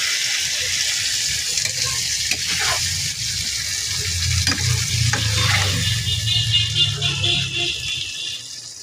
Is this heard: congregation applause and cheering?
no